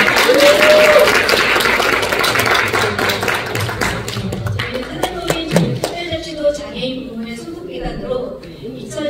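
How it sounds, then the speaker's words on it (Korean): Audience applause at a disability community integrated-care report meeting in a hotel in Jeju, a dense burst of clapping that gradually thins into scattered claps, with brief speech near the start. "다시 한번 박수 부탁드립니다"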